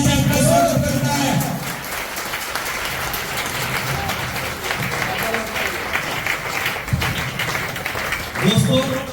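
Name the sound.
audience applauding loudly to welcome the speaker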